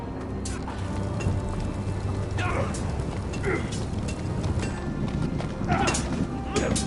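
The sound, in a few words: horse hooves clip-clopping in Game of Thrones video game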